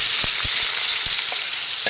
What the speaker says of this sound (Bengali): গাজরটা ভাজা বসিয়ে দেবো।